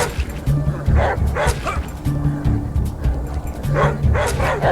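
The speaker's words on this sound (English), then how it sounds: "That's actually a nice looking dog there." A dog in the ATOM RPG Trudograd video game barks and yips repeatedly in quick bursts, mid-distance, layered over game ambience, with brief voice-like sounds between the barks.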